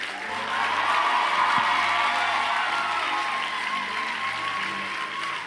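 A church crowd at a French Christian event cheers and acclaims the Lord, a broad sustained roar of voices and applause that holds steady and fills the space from start to finish.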